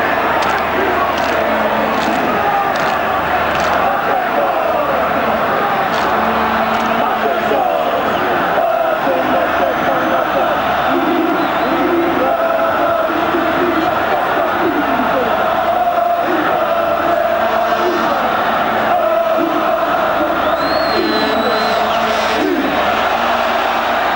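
Home crowd at an Australia versus New Zealand rugby league test match in 1993, a steady, loud stadium roar with swelling cheers and shouts throughout, with no clear talk over it.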